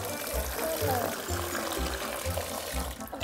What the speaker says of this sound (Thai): เทน้ำไป